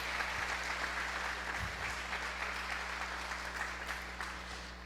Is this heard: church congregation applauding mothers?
yes